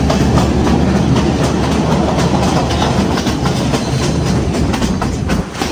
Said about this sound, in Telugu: ఆ నదిని ఫాలో అవుతూ మన ట్రైన్ అయితే కొండెక్కుతుంది